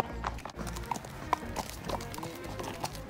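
Horse hooves clip-clopping at a stable yard, a few irregular knocks over a steady low rumble of yard noise, moderately close and fairly quiet.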